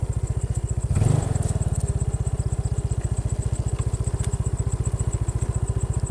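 A Yamaha Mio Sporty scooter engine idles steadily after a tune-up, its rapid even putter close and loud, with a brief rev or clunk near the start and a continuous high whine above.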